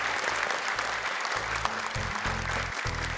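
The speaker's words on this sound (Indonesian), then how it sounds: "Tepuk tangan sekali lagi yuk untuk Gibran yuk." Studio audience applause for a young contestant on an Indonesian Quran memorization TV show, a steady dense clapping wash heard over blocky low background music.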